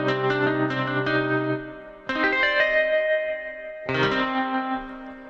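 Electric guitar run through the Desolate Guitars basic preset, bright, effected chords with chorus-like shimmer and reverb, struck in three groups, sounding alone and close.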